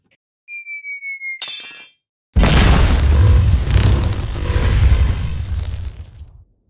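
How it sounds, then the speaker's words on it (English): A pipe bomb explosion effect played on cue during a wrestling recap show: a short rising chirp tone and a rapid burst, then after a brief gap a loud, sustained boom with a long rumbling decay. "Can you go ahead and hit the pipe bomb?"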